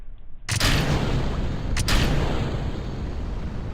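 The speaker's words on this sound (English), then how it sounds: "Let's go ahead and launch our first rocket." Rocket launch in Kerbal Space Program, on version 1.3.1 with the RP1 mod: a sudden loud ignition bursts in after near-silence and settles into a sustained, roaring, rumbling engine thrust that continues steadily to the end, with no voices.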